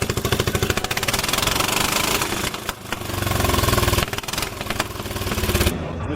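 Restored custom motorcycle engine running at a custom bike show, a loud rapid pulsing thrum that rises and falls with the revs, close and dominant.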